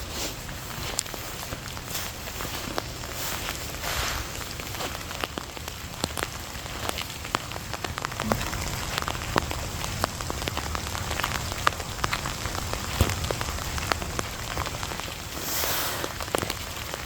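Rain falls steadily at abandoned Lennox Castle, a continuous hiss of drops on surfaces with occasional louder splashes and possible footsteps moving through it, no talking.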